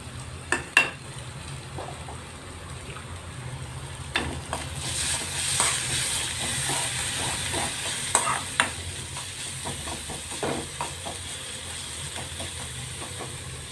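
Coconut thoran for a banana-flower dish is stir-fried in a pan, giving a steady close sizzle and hiss with repeated scraping and stirring taps throughout.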